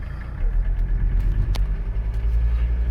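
Old Mercedes 300CD diesel car with a broken belt revs up and pulls away, a steady low engine rumble that rises and holds close and loud throughout.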